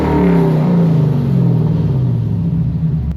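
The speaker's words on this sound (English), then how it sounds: "I'm just revving my engine here to see if it's still smoking from the back" An LS V8-swapped Infiniti G35 that had been smoking from the rear, loud and close, its engine revving up then falling in a sustained throaty rumble with no talking.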